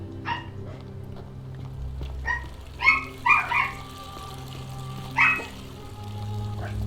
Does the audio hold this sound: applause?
no